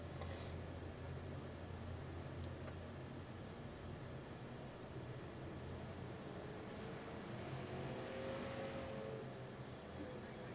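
Race cars at Lincoln taking the green flag, a steady broad engine roar that swells toward the end as the pack accelerates away, loud and continuous with no talk over it.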